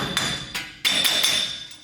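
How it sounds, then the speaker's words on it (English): A hammer taps a failed front wheel hub assembly out of a 2009 Toyota Tacoma 2WD, giving about five sharp metallic strikes with ringing tails, close and loud with no talk. "Maybe I need a little tapping with the hammer."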